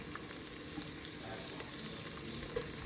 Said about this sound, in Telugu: దీంట్లో మనం కొత్తిమీర, పుదీనా కూడా వేసుకుని బాగా ఫ్రై చేసుకుందాం.